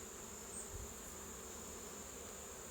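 Honey bees buzz in an open hive during a beekeeping inspection, a steady dense drone that runs evenly throughout at close range, with no talk over it.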